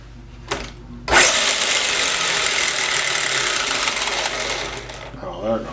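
A Subotech BG1508 RC toy truck's electric motor whirs up to a steady, loud high-pitched whine after a couple of brief clicks, holds for several seconds, then cuts off abruptly.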